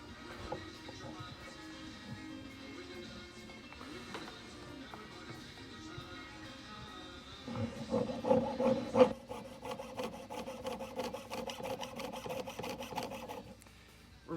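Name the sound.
hand saw cutting metal in jewelry studio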